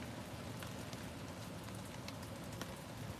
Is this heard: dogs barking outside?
no